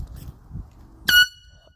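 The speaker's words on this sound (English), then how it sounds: "I'm gonna be honking air horns for fun." A Super Blast air horn gives one short, loud, sharp blast after a few quiet, low rumbles, then its tone fades quickly.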